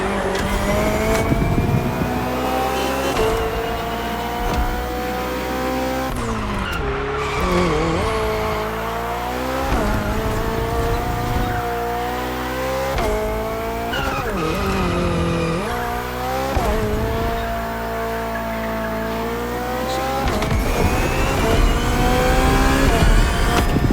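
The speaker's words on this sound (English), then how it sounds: "The Hybrid V8 will do the rest." A BMW hybrid V8 race car in The Crew Motorfest roars at high revs, its engine pitch climbing and falling sharply through repeated gear changes, with tire squeal and skidding laid over a loud, continuous drive.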